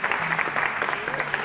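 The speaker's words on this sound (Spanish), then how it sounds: "¡Un aplauso ahí!" A brief burst of audience applause, a dense patter of clapping hands at moderate volume, mixed with cheering voices in the room.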